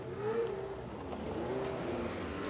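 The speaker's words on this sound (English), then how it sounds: "the cars are heading out now onto track to take their grid for race 2" Lotus race cars in the Lotus Cup Europe head out onto the Magny-Cours circuit before race 2. Their engines make a faint, steady drone at a distance, with a few soft rising pitch sweeps as they pass.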